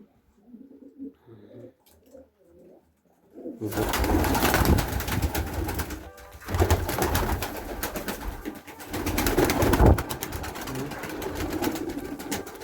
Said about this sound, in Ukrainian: що там з голубенятами у нас.